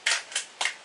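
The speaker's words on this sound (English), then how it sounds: "let's go 2 more shots of these RWS pellets" Three quick, sharp air-rifle shots from a Stoeger X3 Tac firing RWS pellets, each a crisp close snap, spaced unevenly within under a second, with no talk.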